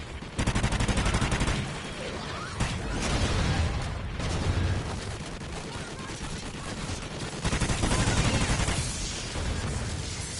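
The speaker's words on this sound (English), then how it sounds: "Oh, you're going ham with your dual pistols, huh?" Dual pistols fire in Call of Duty Extinction, rapid bursts of shots layered with heavier gunfire and explosions, loud and dense throughout, with a voice talking faintly underneath.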